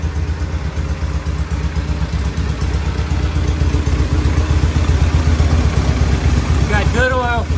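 A vintage British motorcycle engine idles with a steady, close, lumpy chug and light mechanical clatter, a voice speaking briefly over it near the end.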